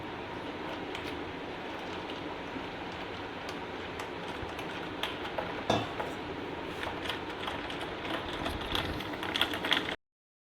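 A spoon stirs milk into coffee in a glass, a steady rapid clinking and swishing that runs continuously at close range and stops abruptly at the end, with no talk.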